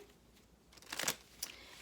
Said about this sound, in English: All right, so I'm just shuffling them up again.